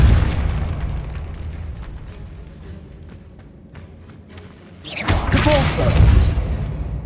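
Depulso spell blast in Hogwarts Legacy, a low rumbling boom that fades over several seconds, followed by a second, louder burst with crackling debris and a brief voice over it.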